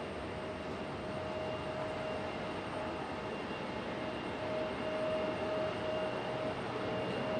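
A Copa Airlines airliner in Star Alliance livery at Raleigh-Durham International Airport, heard as a faint, steady distant jet roar with a soft whine running throughout.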